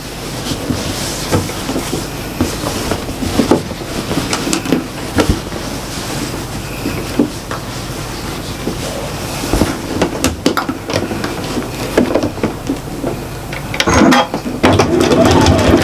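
A sewing machine runs in bursts while a shopper bag seam is backstitched, its rapid mechanical needle chatter starting and stopping with clicks and handling noises, fairly close and loud.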